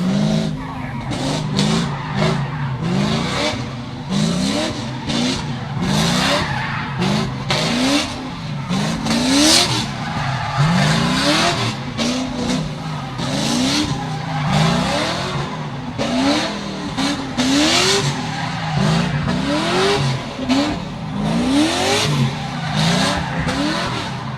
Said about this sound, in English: It's just a real little short scrub of the tyres there.